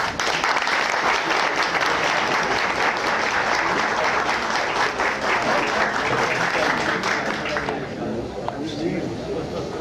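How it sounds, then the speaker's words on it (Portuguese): Loud, dense applause from the audience at the founding ceremony of the Academy of Letters and Arts of Castro Alves fills the room for several seconds, then fades quickly into quieter murmuring near the end. "peço no final mais salva de palmas"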